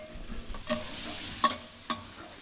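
Sizzling and stirring while cooking tinola: a hot pan crackles softly as a utensil scrapes and taps a few times, close and alone without talk.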